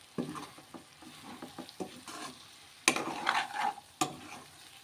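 Thinly sliced ivy gourds, half a kilo, fry in a pan with coconut paste for a gravy curry, giving a steady sizzle under repeated stirring scrapes, with sharper clatters of the spoon partway through and near the end.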